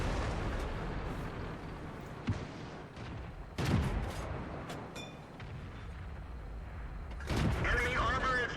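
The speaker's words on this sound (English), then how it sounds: "I'm firing the APCR and I'm still bouncing off him." A T1 heavy tank firing APCR rounds in a tank video game, a few sharp booming cannon shots spaced seconds apart over steady engine rumble, with voices in the background.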